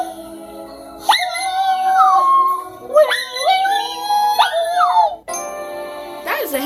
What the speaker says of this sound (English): That is the happiest dog I've ever seen.